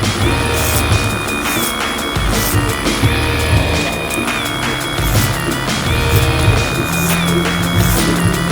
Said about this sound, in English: Clipper over comb.